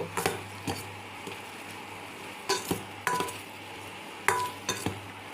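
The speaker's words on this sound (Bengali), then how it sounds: "এরপর হালকা নেড়ে দিব।" Noodles being stirred with spice mix in a pan: a soft sizzle underneath with a few intermittent scraping and clinking strokes of a utensil against the pan, close and moderately loud.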